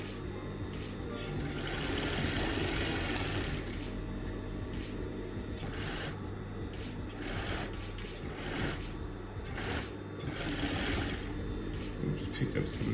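A sewing machine stitches a shirt seam with a steady mechanical whir broken by short bursts and pauses. Speech continues over it.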